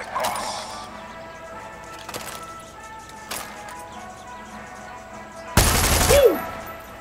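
Rifle gunfire in Far Cry 6: a few sharp, separate shots spaced across the moment, with one louder, close blast near the end followed by a brief ringing tail.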